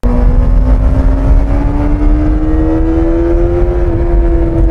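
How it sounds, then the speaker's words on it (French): A worn Suzuki Bandit 400 four-cylinder motorcycle engine revs high and holds a loud, steady whine that climbs slowly in pitch, close and alone throughout. "pour s'exprimer, cette moto, elle doit monter haut dans les tours"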